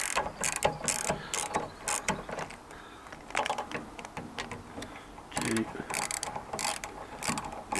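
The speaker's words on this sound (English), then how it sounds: "Now I just need to undo the bolts." Bolts being undone on the door of a Land Rover Discovery 2, with clicking ratchet and metallic tool rattles in bursts, fairly close, over a busy workshop background.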